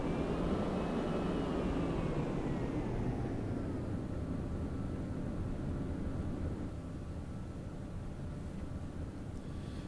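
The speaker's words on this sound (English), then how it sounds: "We've made it safely back home to the Enterprise as we taxi out of the landing area." Jet aircraft taxiing across the deck of the carrier Enterprise in the Strike Fighters 2: Vietnam flight game, a steady loud engine roar with a high whine that slowly falls in pitch and eases slightly.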